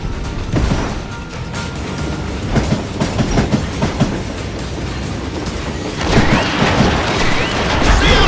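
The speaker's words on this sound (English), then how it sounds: "We're on a moving train." A moving train in the Western shooter game GUN rumbles steadily with rattling, clacking railcar noise and scattered metallic knocks, growing louder and rougher near the end. No voices.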